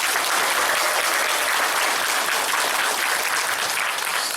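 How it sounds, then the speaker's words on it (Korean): A full room claps loudly and continuously for the mayor at a council gathering, a dense, even roar of many hands with no pauses. "지금의 박수보다는 더 큰 박수로 여러분들 감사의 표시를 좀 해주셨으면 좋겠습니다"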